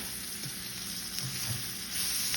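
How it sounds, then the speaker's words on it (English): Minced garlic, cayenne, ginger and salt sizzle in a hot pan as they are stirred, a steady close frying hiss with soft scraping touches and no talking. "Here we have some minced garlic, some cayenne, some ginger, and some salt. And we're gonna go ahead and just dump that in and give that a stir."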